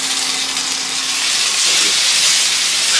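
Ginger garlic paste is added to onions frying in a little oil. It gives a steady, close, bright hiss and sizzle that grows slightly louder toward the end, with no talk.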